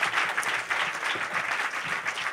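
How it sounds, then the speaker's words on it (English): A crowd at a book festival talk show gives a big round of applause for a guest, dense continuous clapping close up and fairly loud, with no speech over it. "Come on, a big round of applause for Wyndham,"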